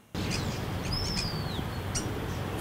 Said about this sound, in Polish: W Parku Śląskim słychać nie tylko śpiew ptaków.